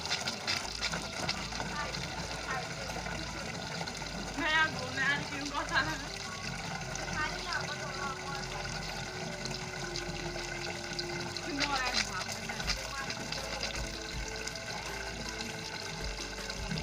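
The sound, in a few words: filling a water container at a mountain spring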